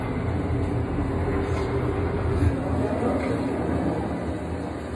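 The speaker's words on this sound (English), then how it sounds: "There's the train." A train rumbles past steadily in the Star Wars Jedi Fallen Order game, a continuous loud rolling drone with faint clatter lasting throughout.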